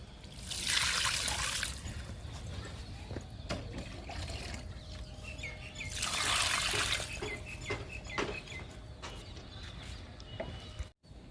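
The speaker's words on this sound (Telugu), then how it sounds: "విరజాజికి ఇస్తున్నాను లిక్విడ్." Homemade kitchen-waste liquid fertilizer made with carrot, beetroot and almonds is poured onto a jasmine plant, two short splashing pours a few seconds apart with quieter trickling between them.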